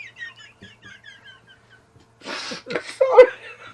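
A woman sneezes once, a short loud burst with a sharp gasping build-up, after some quiet chatter and bird-like squeaks. The sneeze is close and clear.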